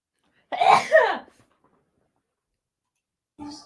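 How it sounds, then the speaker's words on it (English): A single sharp human sneeze, close and loud, followed by a pause and a brief faint sound at the end. "I'm going to sneeze. Hold on."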